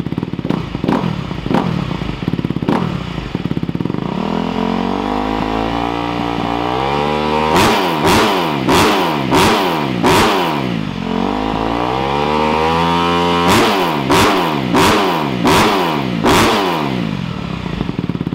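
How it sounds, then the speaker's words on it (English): Up close, a 2020 Honda CRF250R dirt bike engine idles with a brisk thump, then rises in rapid, repeated revs that climb and drop in rhythmic bursts, loud and alone. "Got a couple of sound clips revving it up once it's warmed up."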